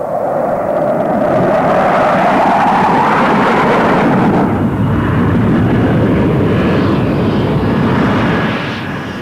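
Jaguar jet aircraft with two Adour turbofan engines with reheat roaring loudly overhead, a broad sustained jet rush that swells and then fades slightly as it passes.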